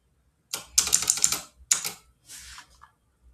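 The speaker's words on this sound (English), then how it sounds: "allow me to type in out" Quick bursts of keystrokes on a computer keyboard while writing JavaScript code, clattering in close, uneven clusters with short pauses between them, with no voice over it.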